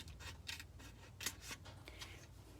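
Scissors snip through a flag stencil in quiet, close, crisp cuts, several short strokes spaced irregularly over a faint low hum.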